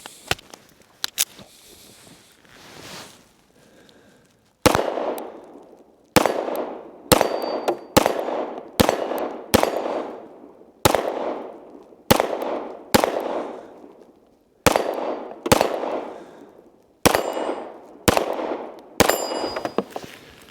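Repeated gunshots from a Springfield Prodigy DS Comp pistol firing full metal jacket rounds outdoors, a loud irregular string of about a dozen sharp cracks with ringing decays, preceded by a few quieter metallic clicks and handling noises.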